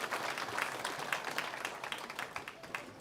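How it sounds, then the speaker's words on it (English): An audience at a junior livestock show claps for the kids, a brief patter of applause that sounds fairly distant and modest. "let's give all these kiddos a round of applause"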